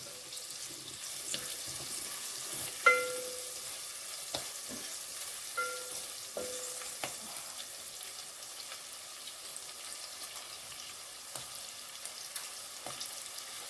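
Quiet sizzling of chillies, mustard seeds, cumin, asafoetida and curry leaves in hot oil with scattered pops and crackles, plus occasional clinks of a utensil stirring, fairly faint and close.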